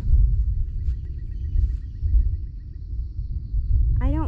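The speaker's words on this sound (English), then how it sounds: "Listen to it rumble." Low thunder rumbles steadily through a passing storm at a house, a deep continuous roll that swells and fades without a break, with a brief voiced exclamation at the very end.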